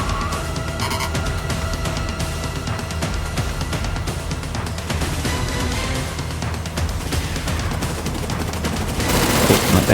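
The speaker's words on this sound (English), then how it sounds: "One last bit of shooting." Rapid sustained gunfire in the Terminator 2D video game, dense overlapping bursts of shots running continuously for the whole stretch, loud and close, growing heavier at the end.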